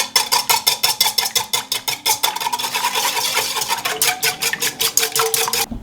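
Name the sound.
whisking ingredients for apple pumpkin bread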